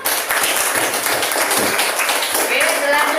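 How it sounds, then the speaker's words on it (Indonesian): Classroom applause for the durian group during a lesson on halal food and drink, close, bright clapping from students sustained for about three seconds with voices mixed in. "Tepuk tangan untuk kelompok durian"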